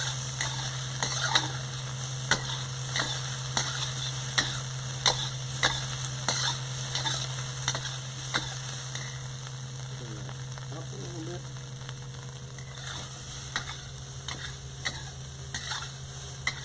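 Egg and onions stir-fried in a pan for fried rice, giving a steady low sizzle broken by regular sharp scraping clicks of the utensil against the pan over a constant background hum.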